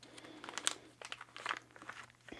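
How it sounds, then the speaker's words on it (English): Scissors cut open the top of a plastic snack package from a keto snack box, giving faint, close crinkling and snipping crunches in short irregular bursts, with no talk. "Okay, we're using scissors. I'm struggling. I'm just gonna cut the top off"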